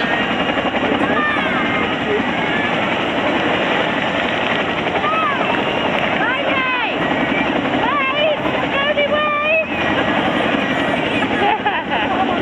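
A Chinook helicopter performs an air display at an Armed Forces Day event in Cleethorpes, its rotor noise a steady loud roar throughout, with a public-address commentator talking over it.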